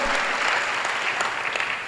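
A church congregation applauding during a sermon, dense steady clapping from many people that fills the room and holds at an even level throughout.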